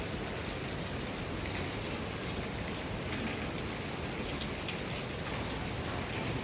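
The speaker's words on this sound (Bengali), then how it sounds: "আজকে হচ্ছে সকাল থেকেই বৃষ্টি হচ্ছে" Heavy rain pours steadily on a rainy day, a dense continuous hiss of drops on surfaces with no talking.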